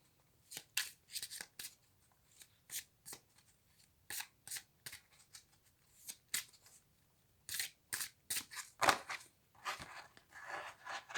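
A deck of tarot cards is shuffled and cut by hand in quick, irregular bursts of crisp riffling and slapping, close and fairly quiet, with short pauses between the bursts.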